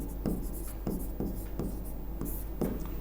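Chalk strikes and scratches on a board come in a steady run of short strokes, close and moderately loud, over a low hum.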